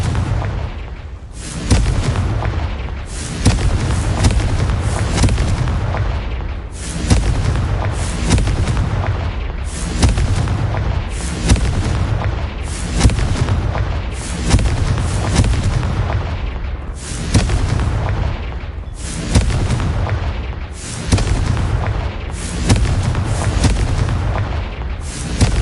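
Confringo fire-spell blasts in Hogwarts Legacy: a rapid, relentless series of loud booming explosions, about a dozen bursts in steady succession, each with a sharp crack and rumbling tail, no voices.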